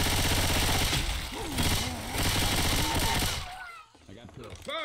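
Dense automatic gunfire from the Left 4 Dead 2 video game in the Swamp Fever campaign, loud and continuous for about three seconds with voices shouting over it, then cutting off into quieter game sounds.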